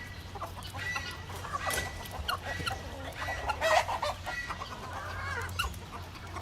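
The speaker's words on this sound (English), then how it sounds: "we are inside of the chicken coop here at Hunt Club Farm. I just threw some apples our chickens are eating this morning" Chickens clucking and murmuring inside a coop at Hunt Club Farm as they peck at apples in the morning, a steady busy chatter of several birds close by with occasional louder squawks.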